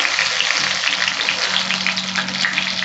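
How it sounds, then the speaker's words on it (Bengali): Cumin seeds sizzling in hot mustard oil as a tempering, a dense, steady, loud crackle and hiss close up, continuous throughout without talk. "এবার ফোড়ন দেব।"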